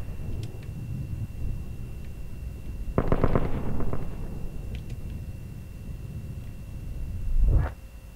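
Sharp bursts of gunfire in Call of Duty: Advanced Warfare, with a rapid cluster of shots in the middle and a single heavy blast near the end, set against a low, steady background hum.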